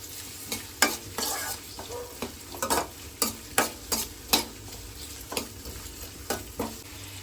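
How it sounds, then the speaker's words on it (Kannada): Onions frying in a pan for chilli chicken, a soft steady sizzle broken by distinct spatula scrapes and knocks against the pan in an irregular rhythm, close and unvoiced. "ನೋಡಿ ಚೆನ್ನಾಗಿ ಆವಾಗವಾಗ ತಿರ್ಸಿ ತಿರ್ಸಿ ಸ್ವಲ್ಪ ಕಲರ್ ಚೇಂಜ್ ಆಗೋವರೆಗೂ ಹಾಗೆ ಹುರ್ಕೊಳ್ತಾ ಇರೋಣ"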